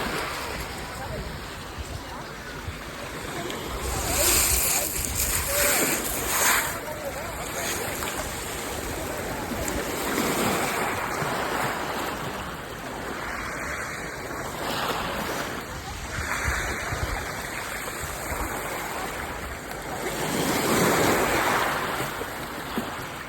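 Sea waves at the Needles on the Isle of Wight, heard from in the cold water, make a steady, close rushing surf wash with gusts of wind rumbling across the microphone.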